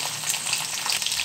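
Garlic and green chilies frying in hot oil in an iron pan, a loud, dense, steady sizzle crackling close up with no pauses.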